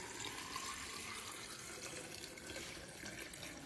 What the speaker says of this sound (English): now we're gonna go ahead and grab some water, and we're gonna fill up our vases with water